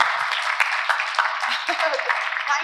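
An audience at a panel event claps along in a short burst of sharp, scattered hand claps, heard under and between a speaker's amplified voice.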